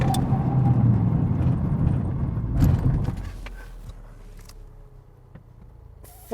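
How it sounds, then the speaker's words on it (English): A Honda Civic Type R brakes hard from 70 mph: road and engine roar fades quickly over a few seconds into near quiet, followed by faint clicks and a sudden thump at the end. "let's find out what distance the car stops in from 70 miles an hour"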